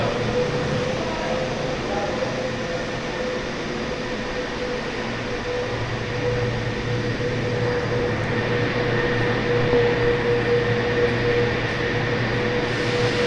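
Heavy machinery drones and rumbles steadily in a large cable car museum space, the machines that run the cables driving old trams, with a sustained mechanical whine and constant low hum, loud and unbroken throughout.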